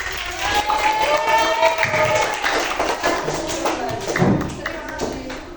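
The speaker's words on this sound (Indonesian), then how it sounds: "beri tepuk tangan untuk" Students clapping in a classroom, a burst of scattered claps and thumps mixed with children's voices talking over it, fairly close and lively.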